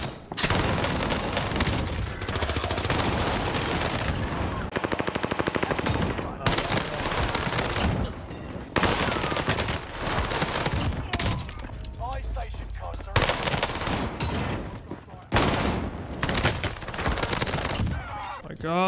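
Rapid, loud bursts of PPSh submachine gun hipfire in Call of Duty Warzone, in repeated strings with short pauses between, mixed with voices and other game effects.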